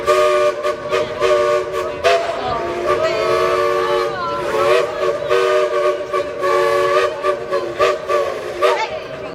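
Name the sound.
train whistle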